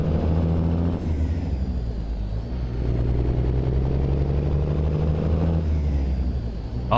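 A Kenworth K100 truck with an N14 engine in American Truck Simulator drones steadily, its simulated diesel note rising and settling in pitch as it revs, loud and continuous with no voices over it.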